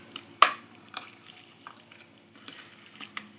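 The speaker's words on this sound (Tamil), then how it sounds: "இப்படி பரட்டி இந்த கறியை நல்லா பரட்டி" Mutton pieces coated in ginger-garlic paste being stirred in a pan, with a sharp spatula scrape near the start and scattered soft clinks and scrapes over a faint sizzle.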